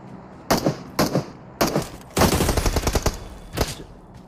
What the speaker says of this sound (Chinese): 底下还有个枪声，人在哪里呢？